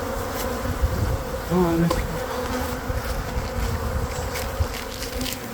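Dense, continuous buzzing of a bee swarm close to the microphone during a bee removal, loud and steady, with a brief voice cutting in near the start.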